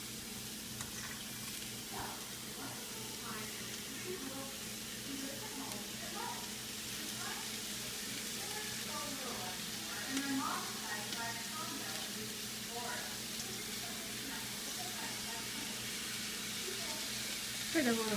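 Carrot and cabbage sautéing in a pan for a momo stuffing, giving a steady, moderate sizzle that runs throughout with small crackles and occasional stirring, while a person talks over it.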